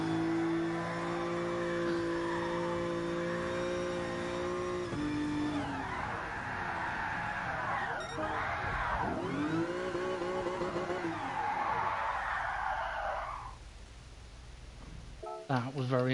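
Car drifting at Suzuka in the GT Sport game, engine revving and dropping with sliding tyre noise for most of the stretch, then cutting off abruptly near the end, followed by a brief voice.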